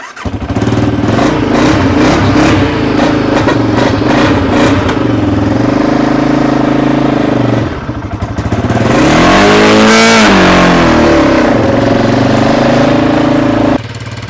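A loud engine running close up, first a rough steady idle, then a brief dip before it revs up and settles back to a steady idle.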